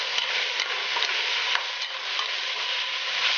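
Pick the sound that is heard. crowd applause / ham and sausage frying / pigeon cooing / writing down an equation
ham and sausage frying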